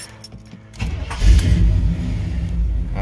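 A 1982 Blazer truck's engine cranks briefly in a driveway and catches, settling into a loud, rumbling idle after a few faint clicks.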